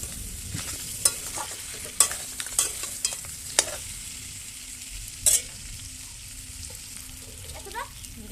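Crab curry with fried potatoes in a small home kitchen: quiet sizzling in the pan with intermittent scraping clinks of a spoon stirring, a few sharp knocks, faint and close.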